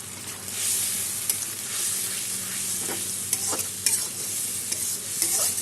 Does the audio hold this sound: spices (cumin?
yes